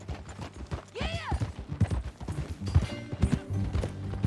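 Horse hooves clip-clop at a walking pace in Red Dead Redemption 2, close and steady, with a brief neigh near the start and light creaking tack around them.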